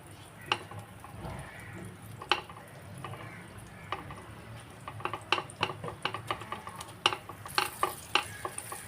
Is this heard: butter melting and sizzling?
yes